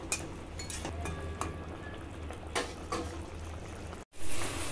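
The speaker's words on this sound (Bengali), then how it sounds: "ঝোল খুব ভালো করে ফুটে গেছে" Fish curry gravy simmers in a pan, a soft bubbling and liquid movement with a few clattering pops, then a short break and a louder burst at the end.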